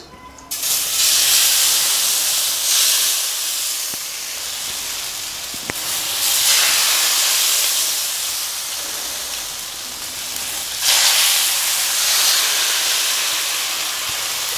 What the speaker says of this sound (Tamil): இப்போ அதை நல்லா கலந்து விட்டுட்டு நம்ம தோசை ஊற்றிக்கலாம்